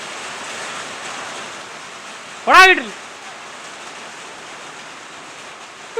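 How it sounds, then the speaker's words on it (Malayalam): Heavy rain falls in a steady, close hiss throughout, and someone briefly shouts partway through. "നല്ല മഴ പെയ്ത് തുടങ്ങിയിട്ടുണ്ട്, നല്ല കിടുക്കാച്ച് മഴ"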